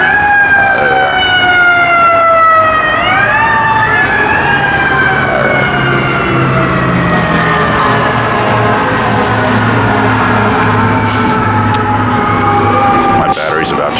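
A fire truck siren wails along Astoria Boulevard, sweeping up and down in pitch as the truck passes at close range, loud above steady street rumble.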